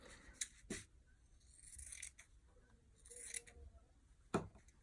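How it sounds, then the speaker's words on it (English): Scissors trim the paper spine of a handmade journal in a few sharp, close snips with soft rustling and scraping between them, quiet overall, ending on a crisp final cut, no talking. "You trim it to the top and bottom."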